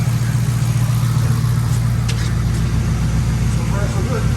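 A used police car's engine idles with a low, steady rumble while the transmission is cycled through drive and reverse, the rumble holding loud and close with a few faint clicks over it.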